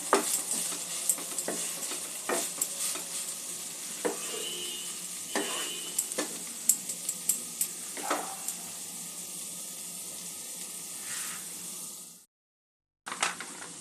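Cauliflower kabab mixture with paneer being sautéed in a pan over a medium-low gas flame, with a steady close sizzle and frequent scraping stirs, then a brief silence near the end.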